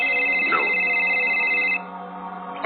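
A telephone rings steadily with a sustained electronic tone, holding for about two seconds before stopping abruptly, then fading into quieter room noise.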